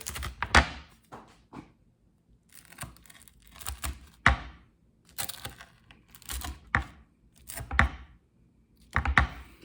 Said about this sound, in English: Cut it in there. You can hear it crispy.